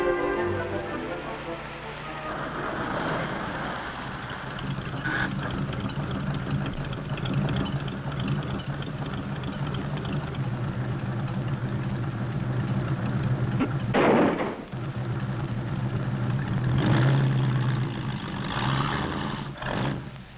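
Engines of a 1950s car and an old jalopy roar and rumble steadily as one chases the other on the road, with someone narrating over the engine noise throughout.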